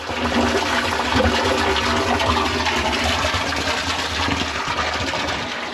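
Water rushing through a bathtub overflow during a test, a loud, continuous broadband gush that stays steady throughout with no voices.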